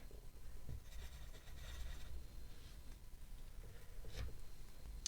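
A colored pencil scratching on paper while marking an opponent's starting spots in the board game Snail Trails, soft quiet strokes in short bursts, close and alone.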